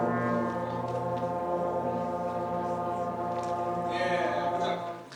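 A school band's trombones, baritones and tubas sound one sustained low concert note together, steady and full for about five seconds before cutting off, with a bright burst near the end.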